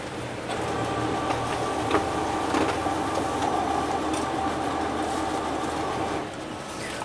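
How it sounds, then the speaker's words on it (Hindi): A Kyocera Ecosys M2040 laser printer runs a status page, giving a continuous mechanical whir with soft clicks and rattles, heard close up with no talking. "आपको एक प्रिंट आएगी।"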